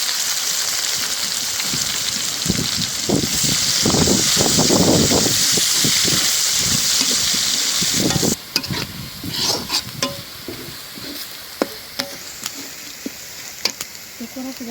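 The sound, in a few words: onion frying in a pan with garlic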